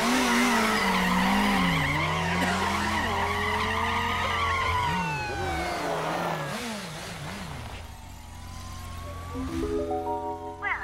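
A self-driving motorcycle skids in a Ben 10 cartoon, with tire squeals sliding and wavering over an engine drone, then a revving rise near the end, loud and close with no talking.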